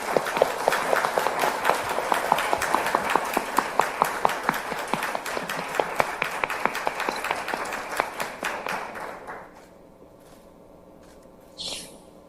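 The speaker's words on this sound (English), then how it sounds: "let's give Prime Minister Rasmussen a round of" Applause welcoming a former prime minister at a political event, sharp individual claps dense at first, thinning and fading out after about nine seconds, followed by near quiet and a brief voice at the end.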